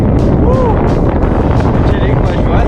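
Strong wind blowing during a bicycle tour around the Baltic, loud constant buffeting roar across the microphone with a gusty rushing quality throughout.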